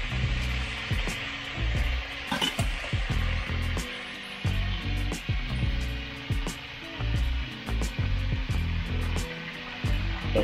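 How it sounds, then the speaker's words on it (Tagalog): Eel sautéing in its own rendered cooking oil in a pan, a steady crackling sizzle with scattered sharp pops and spatters running throughout, close and fairly loud, with no talking. "Kasi yan sa mantika niya na rin tayo mag-gisa."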